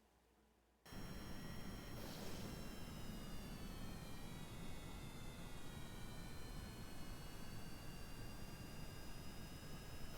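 A custom afterburning jet engine with its thrust reverser engaged in the game Kerbal Space Program kicks in abruptly, then holds as a steady, loud roar with whining tones that slowly shift pitch.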